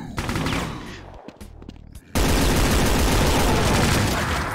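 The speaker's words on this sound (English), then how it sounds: "I'll bring out this machine gun here." A machine gun fires in Doom 2. A few short bursts come first, then a loud, continuous, rapid stream of shots that holds steady to the end.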